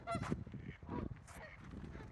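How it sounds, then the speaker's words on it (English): Geese honk loudly and close by outdoors in spring, giving several overlapping nasal calls in quick succession. "these geese are making a bunch of noise right here while I try to talk"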